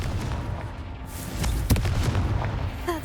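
A Confringo spell explodes in the video game Hogwarts Legacy, a low rumbling boom with a sharp crack midway and a short magical chime at the end, moderately loud and close.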